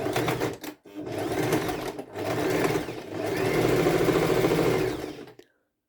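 A sewing machine stitches a quilt cover in fast, continuous mechanical bursts, pausing briefly twice before a long final run that stops abruptly into silence.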